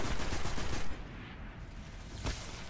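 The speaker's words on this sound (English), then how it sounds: "Who's shooting at me?" Fast automatic gunfire in Destiny: The Taken King rattles loudly for about a second, then trails into a lower rumble with one more distant shot.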